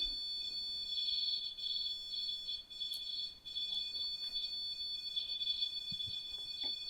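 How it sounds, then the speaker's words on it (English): A Mel meter alarm going off at night in a haunted train museum: a high, steady electronic tone that pulses and warbles, moderately loud, with faint knocks and rustles underneath. "the Mel meter alarms at its strongest so far tonight"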